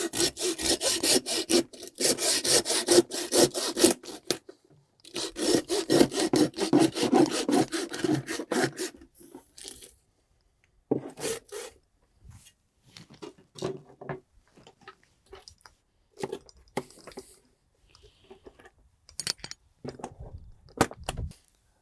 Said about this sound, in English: Hand saws and blades are for cutting through bone.